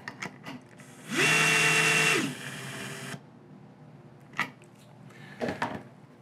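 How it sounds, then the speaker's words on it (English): An Atlas Copco power tool runs a lock nut down onto a stud in one short, loud burst of motor whine with a rising pitch, followed by quieter handling clicks and taps. "To demonstrate this, we're just going to tighten a lock nut onto a stud."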